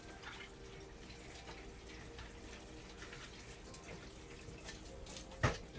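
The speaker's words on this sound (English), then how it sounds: "I'm just going to rinse it off, make sure everything looks nice and clean," Tap water runs steadily while celery is rinsed under it, a soft continuous splash with a brief sharp knock near the end.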